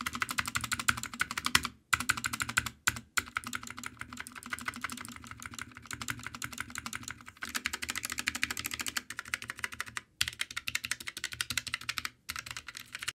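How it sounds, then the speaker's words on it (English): Typing on a FNATIC Streak65 low-profile keyboard with FNATIC speed switches: rapid, close key clatter in quick runs broken by a few short pauses, with no talking. "The typing experience is okay"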